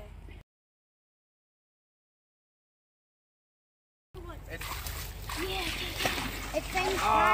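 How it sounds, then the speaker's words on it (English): A bucket of muddy water dumped into a hand-dug backyard mud hole, a sudden loud splash and sloshing that follows a silent gap and carries on, with children's voices shouting nearby. "Watch out, Keaton got another bucket."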